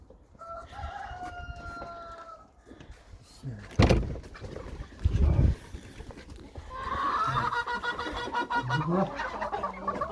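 Chickens cluck and a rooster crows nearby as they are being fed, mixed with bursts of clattering and people talking.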